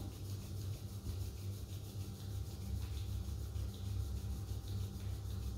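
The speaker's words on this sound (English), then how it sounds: "Rub your palms, make them warm" Palms rubbed briskly together to warm them during a yoga breathing practice, a continuous soft swishing friction that holds steady for several seconds, close and alone with no talking.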